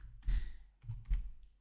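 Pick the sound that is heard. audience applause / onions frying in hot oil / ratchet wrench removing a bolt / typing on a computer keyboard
typing on a computer keyboard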